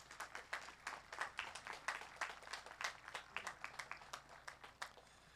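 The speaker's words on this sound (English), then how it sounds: "I'd like to give you, all of them, a round of applause for all the work they've done to help you get to where you are today." Faint, distant applause at an outdoor Lynn English High School graduation for the Class of 2021, a sparse, uneven patter of claps from the audience in honor of the graduates' families, continuing steadily throughout.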